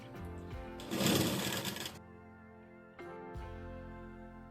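A sewing machine stitches a half-inch strip onto a three-piece princess-cut blouse, running in one loud, dense burst of about a second before stopping, followed by quieter mechanical hum and a soft click.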